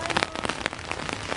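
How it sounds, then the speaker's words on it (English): Rain on a rainy day patters steadily on surfaces nearby, a dense crackle of close drops with no voices. "What a rainy day."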